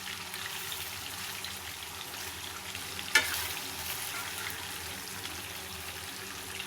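Braised goat mutton (kosha mangsho) frying in a pan, a soft even sizzle running throughout, with a single sharp clink from a utensil midway and no talk.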